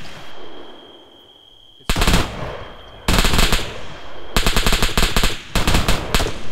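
Loud automatic gunfire in a video game, heard after a quiet lead-in as several rapid bursts of shots in quick succession, close and dominant with no talk over it.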